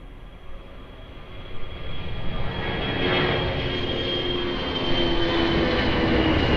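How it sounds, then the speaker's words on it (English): An Air France airliner takes off at Lisbon Airport, a broad, steady engine roar that swells and holds at close range. "Air France 53, take off"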